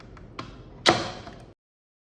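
An NKLK510/530 smart lock door unlocks and opens, giving a couple of soft mechanical clicks and then a sharp, fairly loud latch clack with a short rattling decay before silence.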